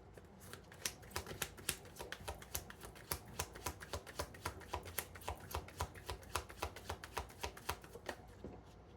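Tarot cards handled and slid back into the deck, a rapid, even run of crisp clicks and riffles that continues close up for several seconds.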